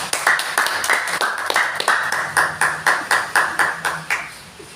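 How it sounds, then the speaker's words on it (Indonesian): A classroom of students claps for a classmate who gave an answer, with about a dozen sharp, close, loud bursts coming in quick, uneven succession, each fading briefly before the next. "diharapkan untuk memberikan apresiasi kepada teman-temannya dengan memberikan aplaus dulu"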